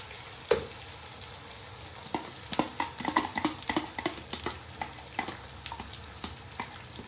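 A spoon stirs fish curry masala with yogurt in a hot pan, giving repeated scraping knocks over a steady low sizzle, close up.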